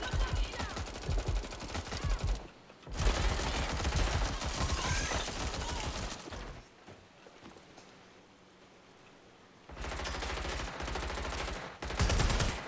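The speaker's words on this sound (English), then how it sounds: "MP5 就是那个 submachine gun MP5" MP5 submachine gun fire in the co-op video game Watch Dogs Legion, sounding as loud sustained automatic bursts that rattle on for a few seconds each, broken by short quiet gaps, with no talk over them.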